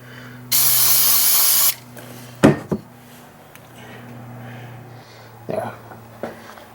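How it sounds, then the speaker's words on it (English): Brake cleaner sprayed from an aerosol can into a disassembled Ingersoll Rand 1/2-inch drive air impact gun: one loud, steady hiss lasting about a second, then a few knocks and clatters of handling, with someone talking. "So then I'll spray some more brake cleaner in there, just like so."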